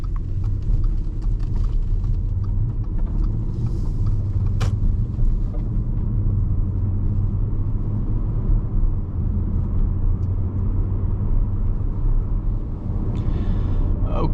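A 2014 Audi RS5 coupe on summer tires cruises along a road, giving a steady low rumble of engine and road noise heard from inside the car, unbroken throughout with no talking.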